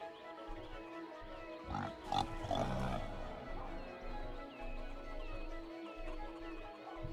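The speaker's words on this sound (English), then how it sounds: "I hear pigs." Pigs grunt and squeal on a farm in the city-building game Cities: Skylines, faint and scattered over a low ambient background with soft tonal game sounds.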